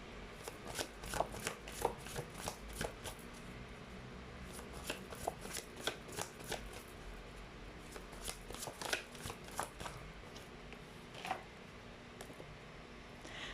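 Tarot cards being shuffled by hand, with a steady run of quiet riffling and slapping card sounds close by over a low background hum, with no talk.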